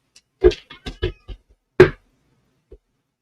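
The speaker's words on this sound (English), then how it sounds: "He's a cat." A cat meows indoors, several short separate cries close by, a cluster of quick calls followed by a louder one and a faint final squeak, with no talking over it.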